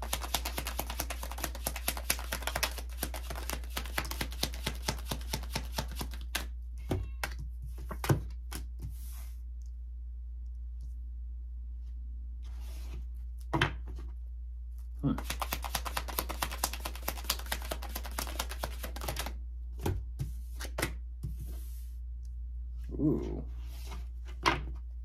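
Tarot cards are taken out and shuffled in long stretches of fast, rattling clicks broken by a few louder knocks, over a constant low electrical hum.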